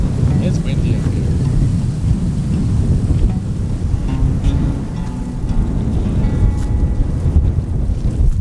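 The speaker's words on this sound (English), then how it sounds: "It's windy up here." Strong wind buffeting the microphone at a high camping spot in the desert, with a loud, continuous low rumble and roar that barely lets up.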